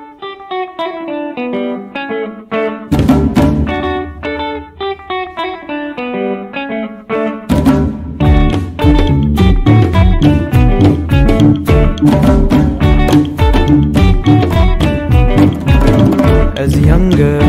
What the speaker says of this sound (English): This is the sound of Kwasa Kwasa.